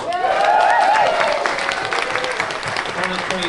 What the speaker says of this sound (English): I'd also like to give a big round of applause to Bernard and Juliet.